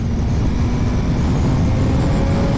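A BMW M 1000 XR motorcycle rushes along at high speed, a dense, loud, constant roar of engine and wind with no pauses.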